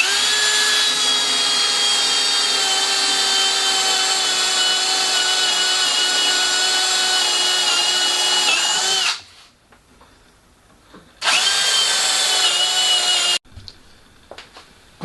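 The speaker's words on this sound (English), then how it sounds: "I now clamp to the side of the MFT and drill through the pilot holes." A power drill whines loudly and steadily as it bores through pilot holes into the side of an MFT workbench with a vice clamped on, running long, stopping, then starting again for a second shorter burst.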